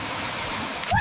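A mountain stream or waterfall at Tamhini Ghat during the monsoon rushes in a steady, close, hissing wash of water for about a second, with a small splash at the very end.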